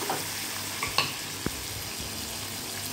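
Onion and chopped tomatoes fry in a pan, giving a steady low sizzle with a few faint stirring clinks and scrapes, close by and without talk.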